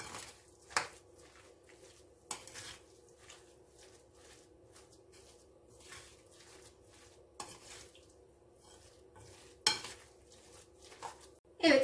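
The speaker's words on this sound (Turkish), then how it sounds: "Bunu güzelce karıştıracağım." A spoon stirs spiced börek filling in a bowl, giving soft, quiet scraping and occasional clinks against the rim, spread unevenly over several seconds.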